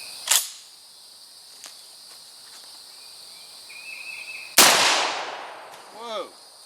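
An old mobster-era gun fires two loud, sharp shots several seconds apart, the second followed by a long ringing decay, with faint clicks between them.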